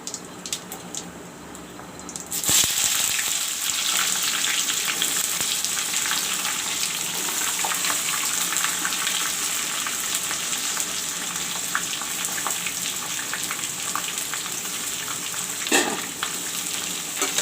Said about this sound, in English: I will let the onions fry brown.